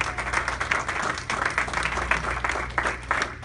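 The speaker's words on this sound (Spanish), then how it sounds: "darle un aplauso al Señor con todo su corazón" Church congregation applauding in a steady, moderately loud wash of clapping over a low background hum, with no talk over it.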